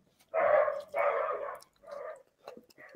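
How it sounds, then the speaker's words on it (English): A dog barks close by indoors, two long loud barks followed by two or three shorter ones, with no talking over them. "Stupid dog."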